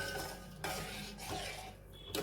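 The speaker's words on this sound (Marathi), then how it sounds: "थोडासा मीडियम हीटवर सतत हलवत आपण पाक करून घेणार आहोत" Sugar syrup is stirred continuously in a pan over medium heat, with a utensil scraping and clinking against the metal in several quick strokes, fairly quiet and close, with no talk.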